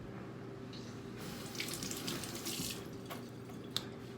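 Tap water runs into a sink while scallions, tomato and hot pepper are rinsed, a soft steady hiss of flowing water with brief splashy surges and a small clack near the end, faint and close.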